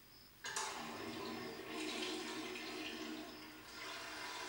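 A toilet flushes with a sudden loud rush of water that swirls and gurgles steadily for several seconds, close by and alone.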